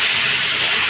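A splash of water poured into a hot pan of mushrooms, bursting into a loud, close, steady hiss of steam for the whole moment.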